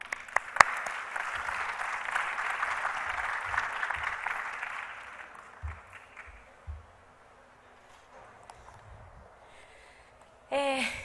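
Warm audience applause greets a lecturer at the Simonsen Lecture (LAMES), a dense burst of clapping that swells for several seconds, thins and dies away, leaving a quiet room with scattered small noises.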